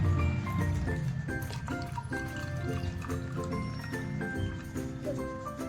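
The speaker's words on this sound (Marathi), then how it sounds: "पाणी टाकूया।" Water is poured into a glass holding ice and raw mango pulp. It makes a continuous, close trickling and splashing fill with a few bright liquid plinks and no speech.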